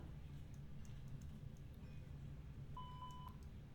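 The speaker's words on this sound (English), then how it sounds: "We can try the fire alarms." In a Toliss A321 flight simulator cockpit, a fire alarm test sounds a short run of high, thin beeps near the end, over a steady low hum.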